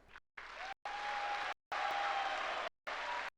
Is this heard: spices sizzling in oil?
no